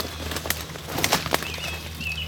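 A turkey hen flushes from bushes, her wings beating in a quick burst of loud flapping close by, followed by a few fainter wingbeats and rustles.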